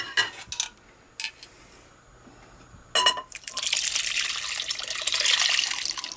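Milk for bread pudding pours steadily into a dish. A few clinks and taps come first, then a continuous, fairly loud liquid stream.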